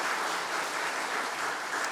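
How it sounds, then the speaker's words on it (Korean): A church congregation at a Sunday morning service applauds to welcome a new assistant pastor, a steady even round of clapping from many hands filling the room, no voices over it. "축하의 박수 한번 환영의 박수 한번 하도록"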